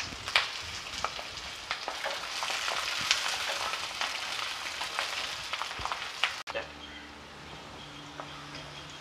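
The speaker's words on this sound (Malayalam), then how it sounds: "ഇതിന് നമുക്ക് ഈ വെളുത്തുള്ളി കൂടെ ചേർത്ത് ഇതുപോലെ നല്ല ചുവക്കെ ഒന്ന് വഴറ്റിയെടുക്കാം" Garlic, with onion, sautéing in oil over a medium flame for a red chilli garlic chutney: a close, busy sizzle with scattered crackles and pops for about six seconds, then an abrupt cut to a quieter, humming kitchen background.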